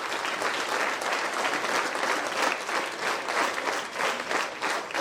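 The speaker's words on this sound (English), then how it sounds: "Continue the clapping." Sustained audience clapping at a Saibisa speech event, a dense, even wash of many hands applauding without pause, moderately loud and continuous throughout.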